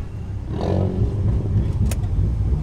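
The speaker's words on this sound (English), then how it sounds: "This Mark 1 sounds aggressive." A turbocharged 1.8T Mk2 Volkswagen GTI drag car at a racing event revs up sharply, then holds a loud, close engine roar with a brief rasp partway through and no talking.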